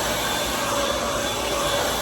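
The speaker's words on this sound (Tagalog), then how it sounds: "At may pa-blower pa." Steady whooshing blower of a hair dryer running close by during a head spa session at a salon, a continuous broadband airflow hiss with a faint motor whine, unbroken and alone.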